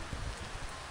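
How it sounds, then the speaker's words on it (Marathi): Steady rain pours down in a village, a dense, even hiss of drops close by with no voices over it. "परत पाऊस चालू झाला"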